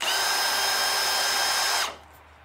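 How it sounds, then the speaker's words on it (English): A power drill whirs steadily at full speed, driving a homemade chainsaw mill, loud and close, then cuts off abruptly near the end, leaving faint background hiss. "you can use a drill, chuck it up, goes up and down like that"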